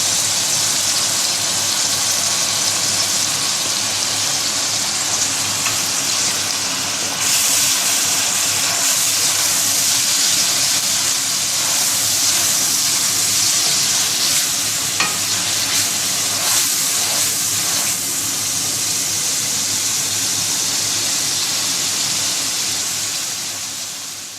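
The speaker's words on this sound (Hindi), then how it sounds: "इसको हम कुछ देर के लिए भूनेंगे" Chopped onions fry in oil in a pot for an aloo chicken curry, a loud, continuous sizzle that carries on for more than twenty seconds, broken by occasional scraping stirs and no talking.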